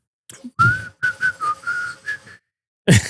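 A person whistles a short, wavering tune of several notes, clear and close, followed by a brief burst of noise at the end.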